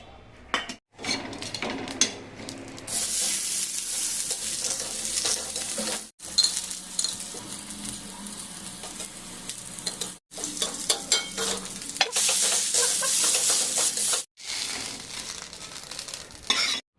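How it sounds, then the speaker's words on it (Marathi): Onion, peanuts, coriander seeds, coconut and green chillies dry-roasting in a pan make a hissing sizzle with frequent metal stirring scrapes and clinks, broken by several brief silent gaps. "तर मी आता वाटण भाजून घेते"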